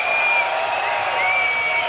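Applause from the audience at a Vietnamese rap and hip-hop all-star concert, a steady wash of clapping and crowd noise heard from a distance and sustained for the whole stretch.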